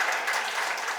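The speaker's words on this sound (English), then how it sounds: "A round of applause as he goes back." A short burst of dense applause from an audience clapping for a speaker, close and steady with no talk over it.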